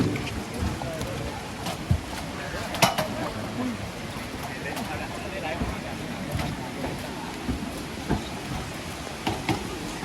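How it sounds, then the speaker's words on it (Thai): Rain falls steadily at an outdoor Phu Thai artists' stage ceremony, a dense broadband patter with scattered louder drops and splashes, and soft crowd murmur beneath. "เป็นบรรยากาศฝนตกปล่อย ๆนะครับทุกคน"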